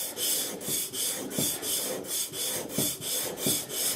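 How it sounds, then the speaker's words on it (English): Sharpening strokes rasp across a blade in a steady back-and-forth rhythm of roughly two per second, each a gritty scraping sweep, close and fairly loud with no talking. "when you are putting on your sharpening strokes"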